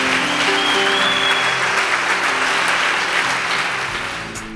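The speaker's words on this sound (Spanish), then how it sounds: "Dele un aplauso al Señor Jesús." A church congregation at a Sunday service in Mexico applauds, a dense, loud, sustained wash of hand clapping that holds steady before gradually tapering off, with faint musical tones underneath.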